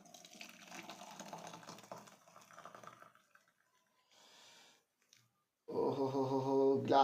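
Masala tea is strained and poured into a glass, giving a soft liquid trickle and splash, a brief pause, then a louder, fuller pouring gush near the end.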